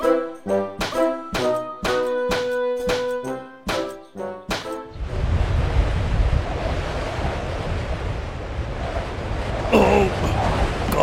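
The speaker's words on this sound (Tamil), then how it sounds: "காத்து ரொம்ப பலமா வீசுது." Strong wind in a Tamil children's cartoon roars steadily and loudly after a short musical jingle, keeping a broad, gusty rush at a constant level to the end.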